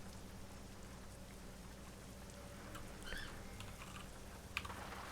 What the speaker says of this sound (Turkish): Yağmuru başlattık.